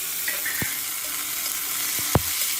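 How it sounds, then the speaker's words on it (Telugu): Chopped onions frying in a pan for palakura pappu, a steady close sizzle with a few sharp clicks of stirring, no talk. "ఆనియన్స్ కాసేపు వేగనివ్వాలి"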